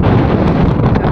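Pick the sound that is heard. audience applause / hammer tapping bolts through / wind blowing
wind blowing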